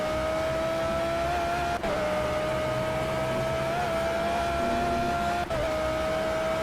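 Race car engine from a driving video game holds a steady high whine under the action, with tire and road noise, two brief dips in the drone and no talk.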